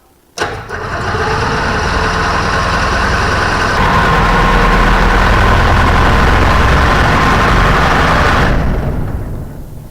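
A Challenger II ultralight aircraft engine cranks and catches abruptly, then runs at a loud, steady, close idle with a constant rumble before it winds down and cuts off near the end.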